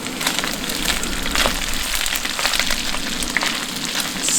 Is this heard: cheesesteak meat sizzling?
yes